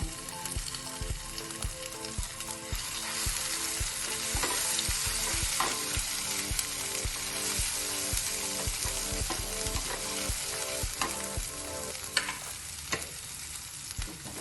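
Ginger and garlic sizzle steadily in hot oil for a Gujarati fresh-turmeric curry, a continuous bright frying hiss with regular rhythmic scraping of a spoon against the pan.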